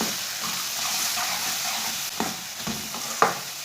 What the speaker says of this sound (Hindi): सब मसालों को ना 1-2 मिनट के लिए भून लेंगे।